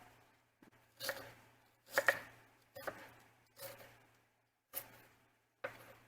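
A knife chops cruciferous vegetables on a cutting board for kraut, with about seven crisp, close thuds spaced irregularly amid quiet pauses and a faint background hum.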